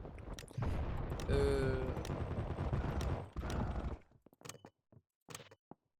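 AK-47 gunfire in the shooter video game Combat Master comes as a dense, loud burst of rapid shots, then trails off into a few scattered single shots separated by short silences.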